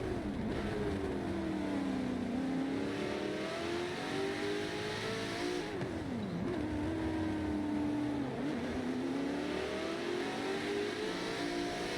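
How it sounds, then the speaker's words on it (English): A race car in a racing video game set at Silverstone, in a 12-hour endurance race, revs up, drops sharply under braking and climbs again. Its engine tone sweeps up and down in a continuous, steady drone. "Resborg sounds like he's almost stalling the car out in the brake zones"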